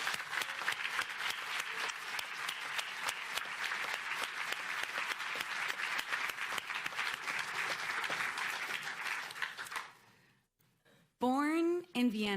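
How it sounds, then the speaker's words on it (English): Ceremony audience at a California hall-of-fame induction applauding steadily for about ten seconds, the dense clapping then dying away into near silence before a voice begins speaking. "let's give a huge round of applause to this fierce champion for women"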